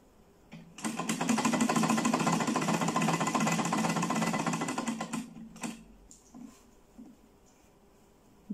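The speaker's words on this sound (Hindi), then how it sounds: "इसके साथ साथ सिलाई लगाऊंगी सफाई से" Sewing machine stitches along the shoulder seam of a frock in one continuous, close, rapid whirring run of about four seconds, then stops, followed by a few soft handling clicks.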